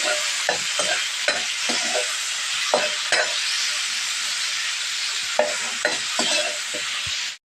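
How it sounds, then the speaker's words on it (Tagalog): Garlic, onion, ginger and tomato sauté in a pan with a constant hissing sizzle, punctuated by scattered scrapes and taps of a spatula stirring, then cutting off abruptly. "Gisa po muna natin ang bawang, sibuyas at luya."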